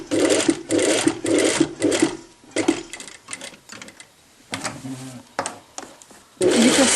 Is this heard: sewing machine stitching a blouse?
yes